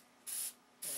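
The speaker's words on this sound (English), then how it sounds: "This is the light can, so we'll shoot a dust coat of primer on this." A spray can of DC 540 primer lays down a light dust coat in two close, loud hissing bursts, the second starting just before the end.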